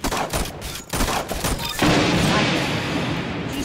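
Pistol gunfire in the video game Arsenal, a rapid string of sharp shots in the first two seconds followed by a continuous noisy rush of game sound.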